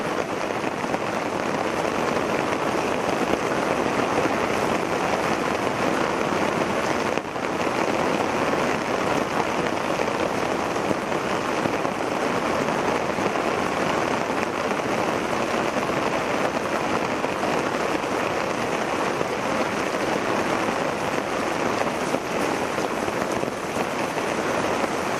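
Continuous heavy rain pours in Ramanathapuram's Mandapam area amid flooding, a dense, steady hiss of drops drumming on surfaces that holds at an even, fairly loud level throughout with no voices.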